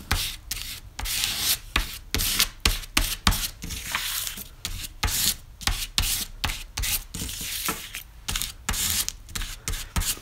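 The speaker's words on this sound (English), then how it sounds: "So if you want to scrape it really thin, you're going to keep it upright." A plastic card scrapes acrylic paint across a surface, giving repeated rough rubbing strokes in an uneven rhythm, close and fairly loud, with no talking.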